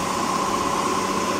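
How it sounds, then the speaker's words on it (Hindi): A John Deere tractor engine runs at night in Saudi Arabia, giving a steady, continuous droning hum with no talking over it. "तो अभी हमारा ट्रैक्टर भी चालू हो गया है, आप लोग देख सकते हैं।"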